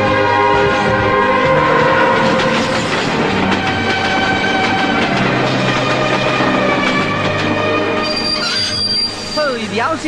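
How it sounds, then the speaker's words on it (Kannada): A passenger train rolls past up close, loud and steady for about ten seconds, with wheel squeal, rail rumble and a brief horn-like tone near the end. "ಇದೇನು ಪ್ಯಾಸೆಂಜರ್ ಟ್ರೈನ್?"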